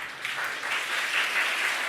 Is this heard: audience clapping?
yes